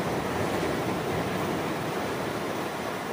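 Steady broadband wash of surf, continuous and fairly loud, like waves breaking nearby with no pauses or voices.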